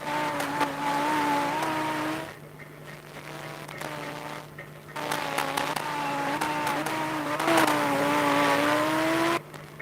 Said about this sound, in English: Let's have a moment and have a listen of the car.